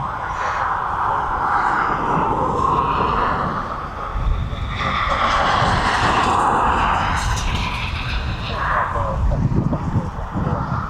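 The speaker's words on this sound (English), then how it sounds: "I've just got that Ryanair coming in now from down from Prestwick" A Ryanair airliner arriving to land at East Midlands Airport, heard as a loud, sustained jet roar that swells and shifts in pitch as it passes, with wind buffeting the microphone outdoors.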